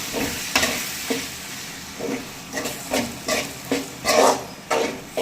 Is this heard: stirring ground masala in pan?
yes